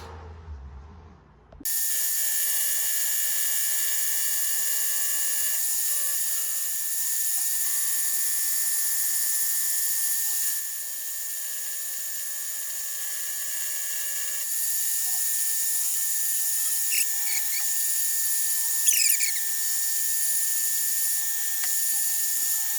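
A power drill with a larger bit runs at a steady high whine for a long stretch, its pitch dipping slightly under load as it bores through material for a 2021 Ford Bronco Badlands cooler rack.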